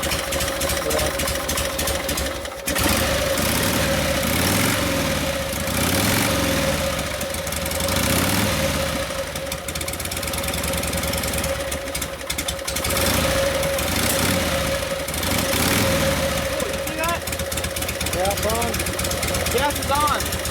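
A 1952 Harley-Davidson panhead with a Linkert carb idles cold, its loud, lumpy, uneven thumping running steadily throughout, with occasional throttle surges and someone talking over it.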